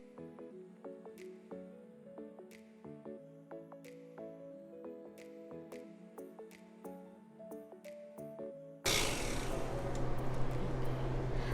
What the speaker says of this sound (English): we're going to add in a half a cup of molasses